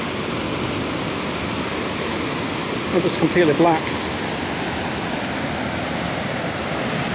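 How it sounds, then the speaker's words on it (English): Small waterfalls on the River Tees at Low Force, near Winch Bridge, produce a steady broadband roar that fills the whole scene, with someone speaking briefly over it. "Some small waterfalls just here, River Tees."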